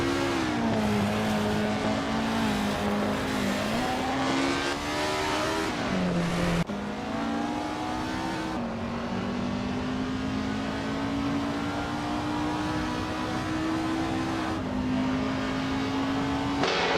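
Race cars battling closely on a circuit, engines revving high and shifting through gears in a continuous loud drone, with pitch dropping and climbing again as they brake and accelerate.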